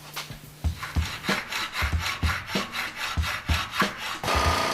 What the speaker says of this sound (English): So we're going to use a hacksaw and slowly cut this off